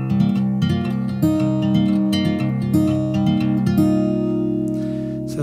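Acoustic guitar fingerpicked quickly, a steady flow of bright plucked notes over ringing bass strings, played alone and close up.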